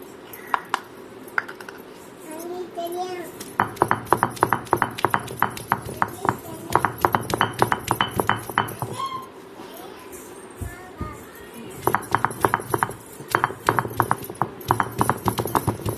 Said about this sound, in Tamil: அடுத்தது 1 பூண்டை தட்டிக்கலாம் அது மேலேயே.